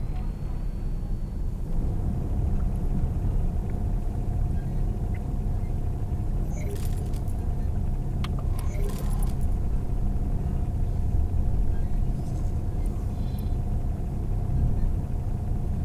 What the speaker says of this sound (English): Come on, engines accelerate.